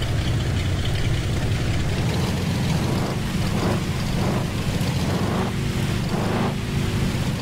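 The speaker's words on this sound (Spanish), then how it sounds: "nuevamente empieza a llover en esta área boscosa, amigos" Steady heavy rain pours over a forest in the off-road driving game Offroad Outlaws, a dense continuous hiss with low rumbling underneath and a few louder splashy bursts, no voices.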